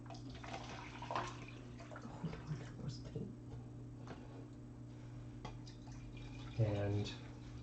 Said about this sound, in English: And we're going to swap some water out here.